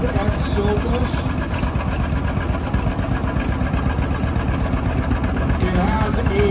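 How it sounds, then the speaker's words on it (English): A John Deere model A tractor, an orchard AO version, runs steadily at idle with a continuous low engine chug throughout, with faint background chatter. "This tractor is an A John Deere"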